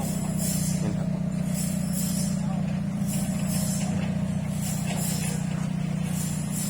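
A Hino six-wheel truck backs in to be loaded with logs at a muddy sawmill yard, its engine a steady low rumble throughout with repeated hissing bursts of air brake release, close and continuous under the scene.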